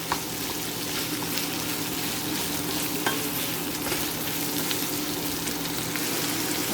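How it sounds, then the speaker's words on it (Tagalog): Brown pork fries in a pan with a constant, dense sizzle and occasional scraping stirs, loud and close throughout with no talking. "lutuin muna natin ang pork. Ang brown pork."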